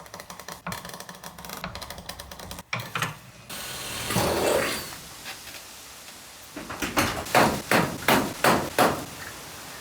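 A rubber flap on a vintage car lift is riveted: some handling noise first, then a regular run of about six sharp, close metallic knocks.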